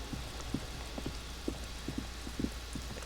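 Steady rain falls in the video game Disco Elysium, a continuous soft wash of patter with scattered louder drops tapping a surface over a low constant rumble.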